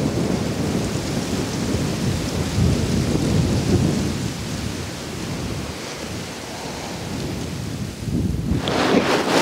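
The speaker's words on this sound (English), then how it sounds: "starting to rain a little bit" Steady rain hisses over a low rumble, growing broader and brighter near the end as the shower picks up.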